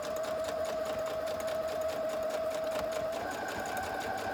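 A sewing machine stitching textile art runs steadily and close by, a continuous motorized whir holding one pitch before shifting slightly higher near the end, with no talking over it.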